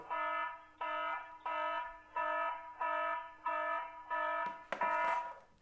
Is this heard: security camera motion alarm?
yes